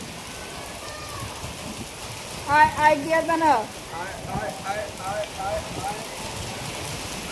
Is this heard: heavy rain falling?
yes